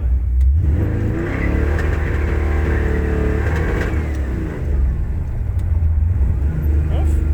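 A car engine, still self-learning after air-fuel tuning, runs at a steady idle with a rough, uneven note and occasional crackles, heard loud and close throughout.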